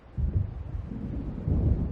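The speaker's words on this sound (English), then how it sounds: "It seems there's a storm coming." Low, rumbling wind and distant thunder of an approaching storm in the video game Alan Wake Remastered, a continuous deep roar that swells and eases without any voices.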